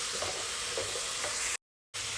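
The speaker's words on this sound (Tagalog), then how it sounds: "ilagay ulit natin yung pork na pinarito natin. Tuloy natin yung paggisa." Pork sautéing in a pan for pork binagoongan gives a steady, close, full sizzle with faint stirring scrapes, broken by a brief silent gap before the frying hiss resumes.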